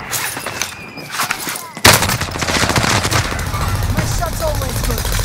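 Video game gunfire breaks out suddenly in a rapid, sustained burst of automatic shots that keeps going, loud and close, with voices under and around it.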